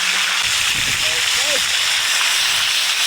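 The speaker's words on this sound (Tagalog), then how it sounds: "Yan. Ulan na mga bay." Heavy rain pours down in a steady, dense hiss, a downpour on an island coast, with faint voices and brief sounds barely surfacing beneath it.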